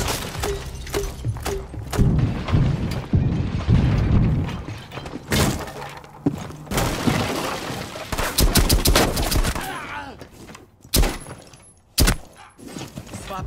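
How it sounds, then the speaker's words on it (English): Cluster charge detonating in Rainbow Six Siege, a chain of loud close blasts and cracks mixed with gunfire and debris, with dense bursts and sharp isolated bangs across the stretch. "Placing cluster charge. Cluster charge live."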